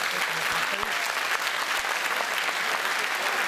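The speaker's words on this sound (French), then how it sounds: "la première candidate, applaudissez-la." An audience applauds as the first contestant, a 14-year-old girl, is introduced at a local singing contest in Bain-de-Bretagne, a dense, even wash of clapping throughout.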